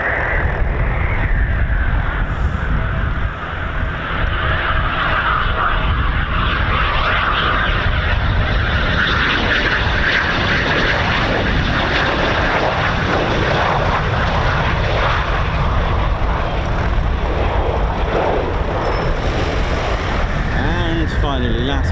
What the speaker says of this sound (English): they might look like they've landed, but you can still fit another Typhoon under there the way they're flying